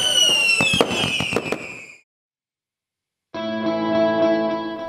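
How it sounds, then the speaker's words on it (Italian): Fireworks at a town festival celebration crackle and burst in a dense volley, then cut to silence before a second stretch of sustained, echoing bangs and crackles returns loudly. "tutto finisce con balli e fuochi d'artificio."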